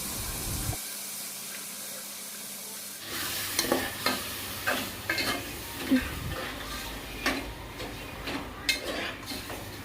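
Washed mutton pieces being stirred in a hot pan for a gravy curry: a quiet stretch, then sizzling with repeated scraping stirs and clinks at an irregular rhythm, close and fairly loud.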